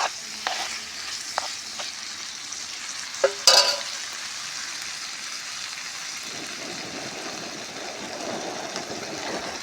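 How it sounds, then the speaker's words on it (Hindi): Gucchi morel mushrooms frying with tomatoes in a pan, a steady sizzle under occasional scraping stirs and a brief clatter of the utensil, close and continuous. "ये देखिए ये हमने इसमें गुच्छी डाल दी बढ़िया साफ़ सफाई से धोने के बाद।"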